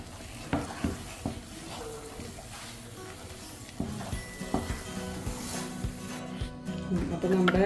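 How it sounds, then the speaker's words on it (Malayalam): Cashew nuts being stirred into thick banana halwa cooking in a pan: a steady soft sizzle with repeated scraping strokes and occasional sharp clinks of the spoon against the pan, close and moderately loud. "നമ്മളിതിലേക്ക് കുറച്ച് അണ്ടിപ്പരിപ്പ് ഇട്ട് കൊടുക്കുകയാണ്."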